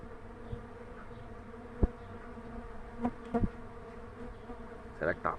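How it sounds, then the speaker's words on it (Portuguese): A swarm of stingless bees leaving a hive box hums with a continuous layered buzz, close and fairly faint, with individual bees zipping past the microphone in brief louder passes. "Olha o tanto de abelha."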